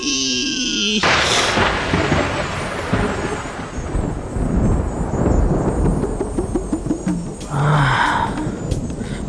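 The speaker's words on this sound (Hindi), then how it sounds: "बिजली कड़की है" Sharp thunder crack bursting in after a brief quiet moment, followed by a long rolling rumble that fades and swells across the stretch, with a brighter burst near the end.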